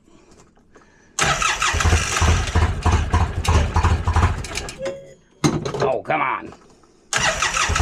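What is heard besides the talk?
engine cranking and trying to start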